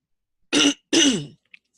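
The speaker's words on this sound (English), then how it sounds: "I do apologize for this cough" Two harsh, throaty coughs close to the listener, one short and one longer, with silence around them and a tiny click afterward.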